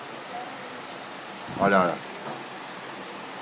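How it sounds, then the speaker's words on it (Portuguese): Heavy rain pours down in a steady, even hiss that fills the whole clip, while a voice briefly says one word partway through. "E está aqui só a água e está a cair com força."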